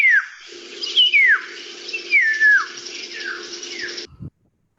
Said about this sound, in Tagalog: yung narinig niyo po kanina ay kiyaw